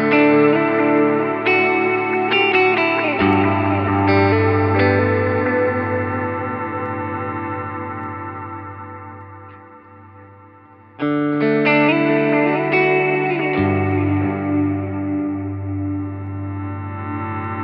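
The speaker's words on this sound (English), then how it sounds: "octave down sounds like this" Guitar through a Line 6 Helix Poly Pitch octave-down effect, two strummed chords with a thick low doubled layer that sustain and slowly fade before the second chord rings out; loud and close, with no voices.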